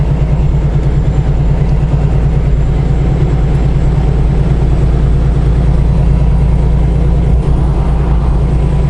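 A semi truck with its trailer moving through a blizzard near a Fort Wayne truck stop, giving a loud, steady low engine and road rumble with continuous wind and blowing-snow noise and no talking.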